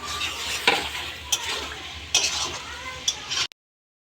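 Chicken sautéing in a pan with potatoes being added, a steady close sizzle broken by a few sharp scrapes and clinks of a utensil against the pan before it cuts off abruptly.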